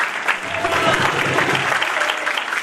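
An audience at a church gathering claps loudly and continuously, a dense steady applause with faint voices mixed in.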